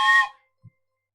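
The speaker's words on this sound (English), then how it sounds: "where's my whistle?" A whistle gives one short, loud, shrill blast with bright harmonics that dies away within half a second, followed by a faint low thump.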